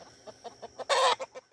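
Chickens cluck in a short run of soft, evenly spaced calls outdoors among weeds, with one louder, harsher squawk bursting out near the middle.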